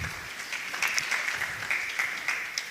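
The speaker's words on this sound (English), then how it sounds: "A round of applause for them as well." Applause from an audience at an amateur radio contact event with the International Space Station in Kenya, steady broadband patter of many hands sustained for a few seconds at moderate distance.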